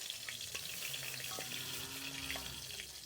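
Malabar spinach greens hit leftover fish-frying oil in a wok, giving a steady close sizzle with faint stirring and scraping, no voices.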